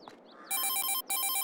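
A phone rings inside the farming game Farming Simulator 22, giving a bright, electronic trilling ring in two clear bursts with a short gap between them, loud and close, no speech over it.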